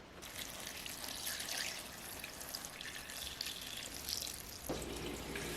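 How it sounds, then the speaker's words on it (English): Water poured from a tap into a stockpot packed with chicken carcasses and vegetable scraps for bone broth, a continuous rushing pour that shifts to a deeper filling tone near the end. "And I'm just going to add water to cover."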